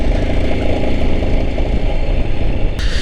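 A motorcycle engine labours in second gear at high altitude on the road up to Umling La pass, a loud, close, steady mid-pitched drone with a rough pulsing texture and no talk.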